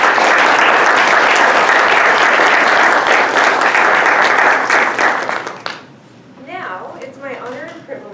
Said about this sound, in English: So can you join me in a round of applause?